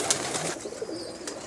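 A male pigeon coos softly on a rooftop loft, a brief low burbling call heard up close against faint background noise.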